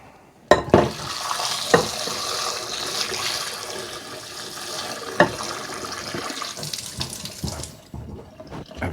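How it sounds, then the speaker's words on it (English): A kitchen tap runs steadily, filling a bowl of onions with ice cold water, a continuous rushing splash broken by a few sharp knocks and clunks near the start. "And fill the bowl with ice cold water."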